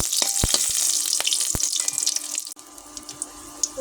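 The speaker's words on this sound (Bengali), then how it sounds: "তেল গরম হয়ে গেছে এখন আমি চারটে খানেক মতো কাঁচামরিচ কেটে নিয়েছি পরে দিয়ে মরিচ আমি একটু নেড়ে দেবো" Chopped green chilies fry in hot oil, giving a close, dense crackling sizzle with sharp pops. The sizzle settles to a quieter, scattered spitting toward the end.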